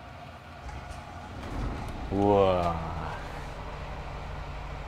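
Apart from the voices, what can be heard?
Scania K360iB bus engine starting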